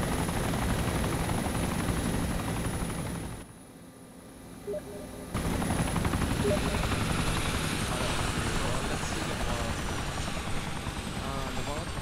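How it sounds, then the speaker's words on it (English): A military helicopter gunship in ArmA 2 makes a loud, throbbing rotor roar that drops out briefly partway through and then returns at full strength, heard close. "chopper with guns attached to it"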